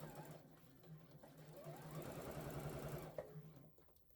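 A sewing machine stitches down a French seam, a steady close hum with a faint rhythmic clatter that lasts most of the clip and then tapers off near the end.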